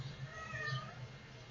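A house cat meows indoors, a few rising and falling calls close by over a low steady hum, with no talking.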